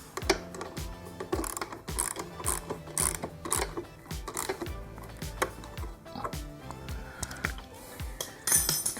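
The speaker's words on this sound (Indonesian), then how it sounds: "Sekarang kita kencangin yang baut belakang ini guys" A wrench tightening the rear exhaust bolt on a 2021 Honda CBR250RR SP QS fitted with an Akrapovic slip-on, heard as a rapid series of close ratchet clicks and metallic clinks in short bursts.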